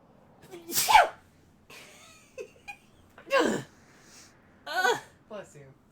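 Several loud, sharp human sneezes burst out one after another, each a sudden explosive blast, with people chatting and reacting between them.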